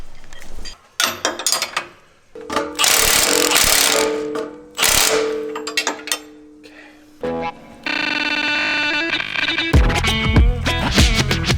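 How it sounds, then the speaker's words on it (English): A ratchet tightens a large track bar bracket bolt on a Jeep JL Wrangler in a home garage, with loud metallic clicking strokes in bursts, brief pauses between pulls and harsh grinding scrapes near the end. "Let's just tighten up that big bolt a little bit more"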